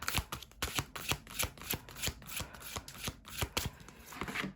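Tarot cards shuffled by hand in a quick, steady run of crisp riffling snaps and soft slaps, close and fairly quiet with no talk over them.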